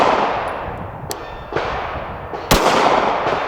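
A pistol fired downrange at a target, with sharp reports spaced irregularly, the loudest crack near the end, each followed by a short decaying ring over steady background noise.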